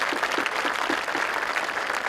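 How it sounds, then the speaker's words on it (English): A school graduation ceremony audience in Smith County claps together in a sustained, even wash of applause that holds at a steady level throughout. "Let's give them a round of applause."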